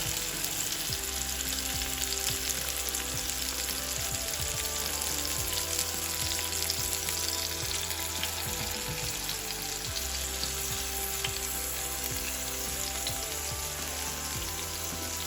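Chicken leg puffs fry in a pan on medium heat, giving a dense, even sizzle and crackle that runs steadily throughout with no voices.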